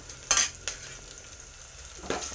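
Cumin seeds and ginger-garlic paste stirred in a hot pan: a couple of sharp spoon-on-pan scrapes over a faint, soft sizzle, with a quiet pause between them.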